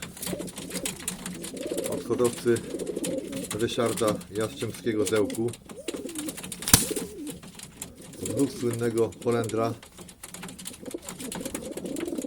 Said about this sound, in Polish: A to troszkę inne gołębie, też samczyki, ale troszkę inne